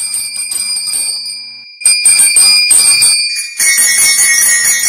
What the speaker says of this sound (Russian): Вот так звучит колокольчик.